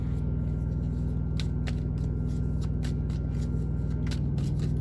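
Tarot cards are handled and the top card is taken from the deck, giving a soft, close papery riffle over a steady low background hum.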